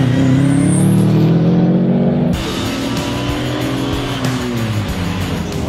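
A grassroots rally car drives with its engine loud and close, droning steadily and then shifting pitch as it changes gear. Gravelly tyre and road noise sits underneath.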